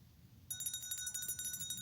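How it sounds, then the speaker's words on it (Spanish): A small handbell rung along the stone corridors of a forest monastery's cells, a bright metallic ringing that starts abruptly and repeats in quick, steady shakes, fairly faint and alone over low background rumble. "De súbito, alguien recorrió los pasillos de las celdas, haciendo sonar una campanilla."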